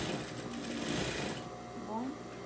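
A sewing machine backstitches the seam of a cloth doll, running loudly in a steady whir for over a second before stopping abruptly, followed by a faint voice.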